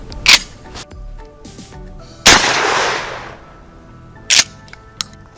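A Mossberg 500 shotgun loaded with buckshot fires several sharp, loud blasts, one heavy report with a long ringing decay in the middle, framed by shorter bangs and faint handling clicks.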